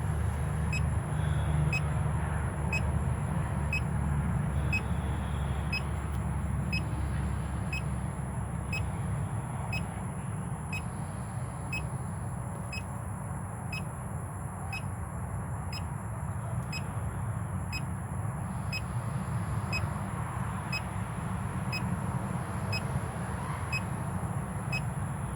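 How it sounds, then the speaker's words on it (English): A CO2 detector alarm sounds as a steady series of short electronic beeps at an even pace, repeating quietly over a constant low hum for the whole twenty-five seconds. "We're almost ready to come back down to where it would stop alarming."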